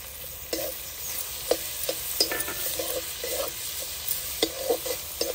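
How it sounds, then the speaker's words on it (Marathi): Green chilies and garlic sauté with onion and tomato in a pan for a spicy guar masala, a low steady sizzle broken by irregular scraping stirs and clicks of a spoon against the pan. "मिरची लसूण चांगलं परतून झालेलं आहे."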